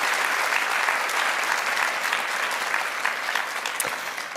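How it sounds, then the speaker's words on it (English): Steady applause from an audience at a youth TEDx event in Sydney, dense and sustained throughout before tapering slightly at the end. "Let's give these guys another round of applause."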